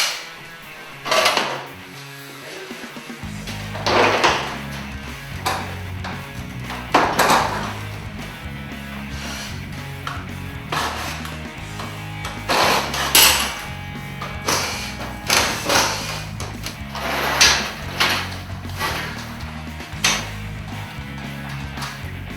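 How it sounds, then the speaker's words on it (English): An old garage door is being taken down panel by panel, with repeated heavy thumps, knocks and metallic clanks at irregular intervals, close by, over a low steady hum and without speech. "Now we're just going to start taking the door down panel by panel."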